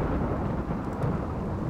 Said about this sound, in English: Rainy thunderstorm. Really bad looking.